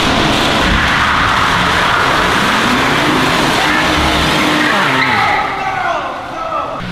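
A car street drifting in a garage, with loud sustained engine roar and tire squeal throughout, fading somewhat near the end.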